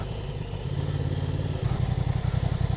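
A Honda Transalp motorcycle engine chugs nearby in a steady low rumble on a wet clay trail in the Ozarks, picking up a faster pulsing throb partway through as the bike rides on.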